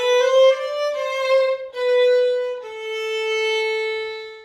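Four sustained bowed string notes played tenuto, each held long and joined smoothly with gentle endings, played alone without talking.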